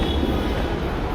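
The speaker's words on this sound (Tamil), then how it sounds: "இது ட்ரெயின் சவுண்டு கேட்குற மாதிரி இருக்குது." A Bengaluru metro train rumbles into a station, a loud continuous roar of wheels and motor filling the brief moment with no distinct pauses.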